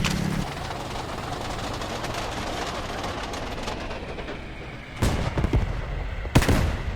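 A tank cannon fires in the Roblox game Multicrew Tank Combat 4: two sharp, loud blasts about a second and a half apart, rising over a steady low engine rumble.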